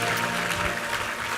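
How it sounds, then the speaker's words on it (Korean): A church congregation gives a brief round of applause of encouragement during a Sunday worship service, a soft, diffuse patter of clapping heard from a moderate distance. "우리 다시 한번 박수로 격려하며 축복하겠습니다."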